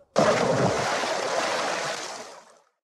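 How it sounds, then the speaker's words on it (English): A person is thrown into a cold river, making a sudden loud splash followed by a rushing wash of water that fades away over about two seconds. "And so the friar threw Robin into the cold water."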